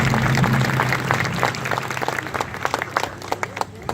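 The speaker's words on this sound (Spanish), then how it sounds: "Con un aplauso cariñoso" A church congregation applauds at a Catholic service, clapping swelling then thinning into scattered individual claps near the end.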